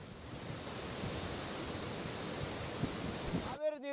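Floodwater of the Cauvery, released from the KRS dam at 1.30 lakh cusecs, rushes over the flooded Srirangapatna–KRS road in a steady broadband roar, with a voice starting briefly at the very end.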